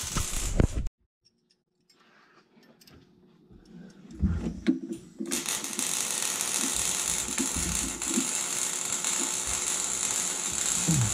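A line wrench works a metal fuel line loose on a 1967 Mustang, with a brief clank, quiet clicking, then a steady rapid ratcheting and mechanical rattle that continues close by to the end.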